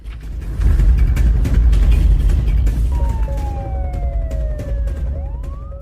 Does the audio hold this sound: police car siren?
yes